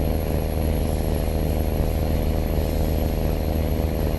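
A heavy truck engine in American Truck Simulator roars loudly and steadily throughout, a dense low rumble with no break and no talking over it.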